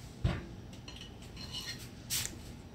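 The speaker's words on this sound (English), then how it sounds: "Probably put another pan in there." Light metallic clinks and a soft knock as a baking pan is shifted while sugar cookies are being made, a few scattered faint clatters in a quiet kitchen.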